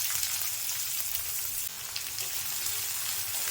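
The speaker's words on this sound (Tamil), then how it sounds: "வெங்காயம் நல்லா வதங்கி வரட்டும்." Finely chopped onions fry in a pan with garlic, giving a steady, close sizzle and crackle that runs unbroken throughout, with no talking.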